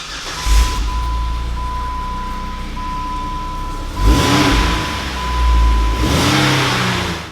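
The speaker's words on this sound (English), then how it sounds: "we have a Borla Touring Catback exhaust on here" A Jeep Wrangler engine with a Borla Touring catback exhaust revs up in several bursts, deep exhaust rumble swelling and falling back to idle, with a steady whine running underneath.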